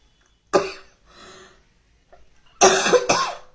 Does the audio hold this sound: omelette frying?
no